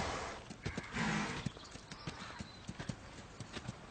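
A racehorse's hooves clip-clop in a steady, fairly close rhythm of sharp strikes, with a short burst of broadband noise in the middle and no talk over it.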